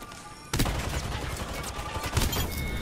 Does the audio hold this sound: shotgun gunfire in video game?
yes